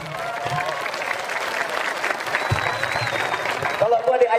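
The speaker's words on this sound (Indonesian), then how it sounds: "Tepuk tangan dulu loh." An audience at a religious sermon applauds steadily, a dense wash of clapping with crowd noise and a voice speaking over it, swelling slightly near the end.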